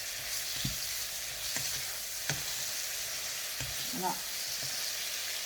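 Shrimp frying in a pan until golden on both sides for an Asian noodle dish with vegetables, a steady soft sizzle broken by a few brief clinks and stirs, with one short spoken word.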